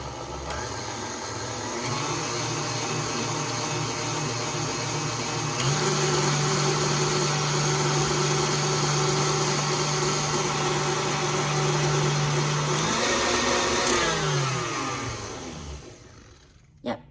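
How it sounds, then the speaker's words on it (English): An electric mixer whisks a white chocolate mousse mixture with a steady, close motor whir that shifts pitch partway through, then winds down and stops near the end with no talking. "I'm just going to continue to whisk it just a little longer until they are well incorporated"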